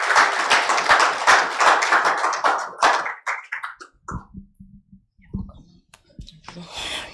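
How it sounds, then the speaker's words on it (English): Audience at a health report launch in Nigeria clapping to welcome the governor's special health advisor onstage, dense applause that thins to sparse claps and isolated taps before a voice begins near the end. "A round of applause."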